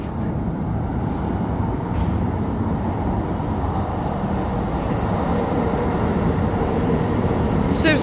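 A Newcastle Metro train, Metrocar 4028, rumbles steadily at close range between Central Station and Monument, a continuous low roar of wheels and motor with faint background voices.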